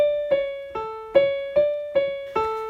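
A chord progression from a character's theme in The Bad Batch plays alone as six evenly spaced, decaying keyboard-like chord strikes, each sustaining briefly before the next, with no talking.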